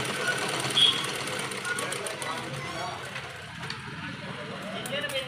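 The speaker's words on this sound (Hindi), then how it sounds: "हम यहाँ पर थोड़ा अंदर की साइड से हम लेकर कपड़ा सिलाई डाल रहे हैं" A sewing machine hums steadily as it stitches a Cinderella-style baby gown. The moderate, continuous whir of the motor runs under a person talking throughout.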